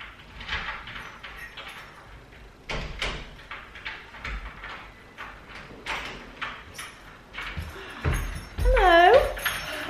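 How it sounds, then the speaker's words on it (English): Someone struggles with a door, producing repeated knocks, rattles and sliding clatter at close range, with a brief high squeak near the end and people talking over it. "Trying to work the door out."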